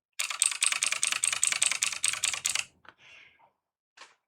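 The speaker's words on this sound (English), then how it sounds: "I personally like the blue key switches because you get that really good click sound once the keycaps are installed." Rapid typing on a mechanical keyboard for the TI-99/4A, fitted with blue clicky key switches and keycaps, makes a crisp, close, even patter of sharp clicks, followed by a few scattered softer clacks and a single final keystroke.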